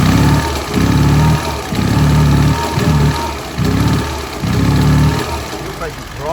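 Honda S600 engine running, a loud close buzzing drone that pulses in about six rhythmic surges with brief dips between, as though the throttle is blipped repeatedly.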